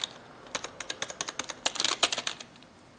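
Soft, quick keystrokes patter on a computer keyboard, a brisk run of quiet clicks close by.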